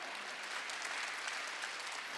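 Steady, dense applause from a church congregation during a Wednesday worship sermon, a continuous wash of many hands clapping at even volume with no voice over it.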